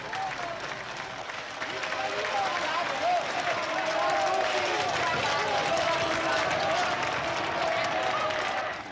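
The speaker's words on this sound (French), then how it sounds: "Regarde comme ils nous acclament." A large crowd cheers and claps in dense, continuous waves, acclaiming Joséphine in a Napoleonic-era French drama. The roar swells after the first second and holds steady and loud throughout, with mingled shouting voices blended into the applause.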